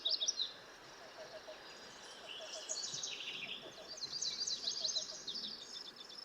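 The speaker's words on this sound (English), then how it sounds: "The cuckoo sings again from the chokecherries." A cuckoo in a clump of chokecherries repeats soft, evenly spaced groups of low notes, faint and distant, while other birds chirp higher above quiet background hiss.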